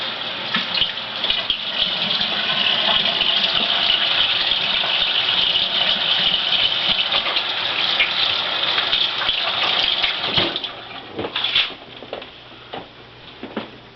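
Tap water gushing steadily into a kitchen sink during hand washing after cracking eggs, loud and close, easing off near the end with a few splashes.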